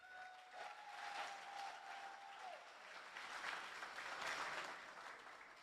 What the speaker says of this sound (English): so we are going to clap now